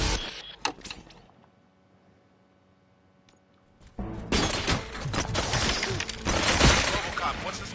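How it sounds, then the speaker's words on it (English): Robots in the game Robocop Rogue City open fire with bursts of rapid gunfire; a sharp shot at the start gives way to a lull, then heavy, continuous loud shooting for the last few seconds. "The status is I'm getting shot, bro."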